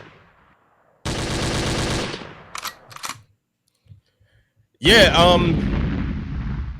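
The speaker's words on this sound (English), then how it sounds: "I think we need to hear some gunshots." Gunshot sound effect played on a talk show: a sustained burst of rapid automatic fire, a few scattered sharp shots, a pause, then a loud explosive blast with ringing debris; a brief spoken word sits among the shots.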